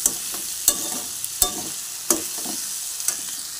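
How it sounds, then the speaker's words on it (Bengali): Potato bhaji frying in a pan makes a soft, continuous sizzle, broken by sharp spatula scrapes and clacks about every two-thirds of a second. There is no talking. "কিন্তু আমি আলু ভাজিটা করছি"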